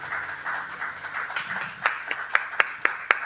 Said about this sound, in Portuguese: Será que você pode aplaudir ao Senhor Jesus?